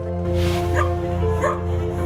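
Dogs rescued from the illegal dog meat trade bark and yip over a steady droning hum, with a couple of distinct barks standing out near the middle of the short stretch.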